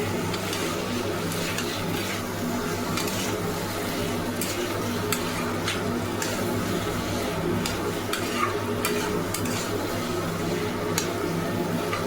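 Food frying in a pan is stirred and mixed, a soft continuous sizzle under repeated scraping and clicking strokes of the utensil, moderately close, with no talking.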